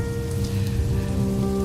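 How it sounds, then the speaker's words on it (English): Rain patters loudly on a car while driving at night in Los Angeles, a dense splashing hiss over a low engine hum and steady tones, with no voices. "Driving in the rain."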